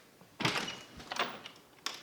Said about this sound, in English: This door's closed, don't come in.